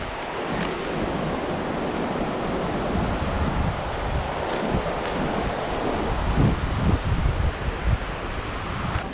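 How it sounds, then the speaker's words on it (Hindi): Steady wind buffets the microphone beside the Manali–Leh highway in the mountains, a continuous broadband roar with occasional gusts and no speech. "हाँ हवा चल रही है"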